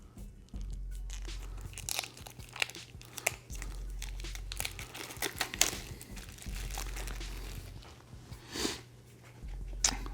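Decks of cards for the Reavers of Midgard board game shuffled and handled while being unboxed: soft close crinkling, rustling and riffling in repeated bursts, with a faint low hum beneath.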